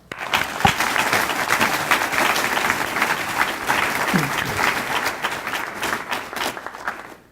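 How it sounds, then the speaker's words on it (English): An audience at an army gathering breaks into sustained, dense applause, many hands clapping close by at a steady level for several seconds before tapering off. "Let's give him a round of applause."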